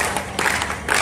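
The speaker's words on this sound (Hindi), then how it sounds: "जब तक ताली नहीं बजाओगे मैं नहीं गाऊंगा" Audience at a Hindi poetry gathering claps in a brief burst of applause, a dense patter of many hands swelling and fading within a second, moderately loud with faint crowd murmur.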